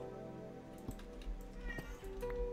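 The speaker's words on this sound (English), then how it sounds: "The kitty is whining." A cat whining and meowing indoors, a few short, nasal mews close by against a quiet background with faint clicks and soft tonal hum.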